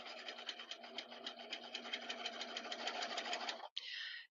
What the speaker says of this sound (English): I'm going to put my foot down and I'm going to sew.